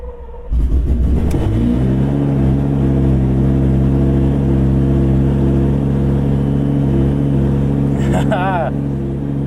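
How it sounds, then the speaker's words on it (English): A Lamborghini Gallardo V10 cranking and firing up after an engine install, a quick starter whir bursting into a loud, steady, close idle with a rich low rumble that holds without fading. "I can't think of anything more encouraging than hearing this V10 fire up again"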